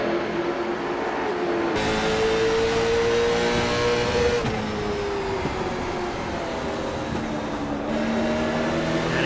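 Late model race car engine roaring at Martinsville Speedway, a steady loud drone with shifting pitch as the car brakes hard, lifts off throttle and accelerates again through the corners, continuous throughout.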